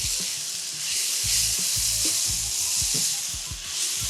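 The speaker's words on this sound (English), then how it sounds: "Now I add in the sage, thyme, dried cranberries" Garlic, sage, thyme and dried cranberries sizzling in a hot pan for festive rice, a loud steady hiss with rhythmic low thuds of a spoon stirring and scraping, close and without any talking.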